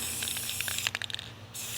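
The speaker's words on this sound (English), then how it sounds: "the wind is taking the mist of this clear spray paint away from you" Clear spray paint hisses from an aerosol can onto a tile outdoors in the wind. The steady mist hiss comes with a few faint clicks and ends briefly, close and moderately loud.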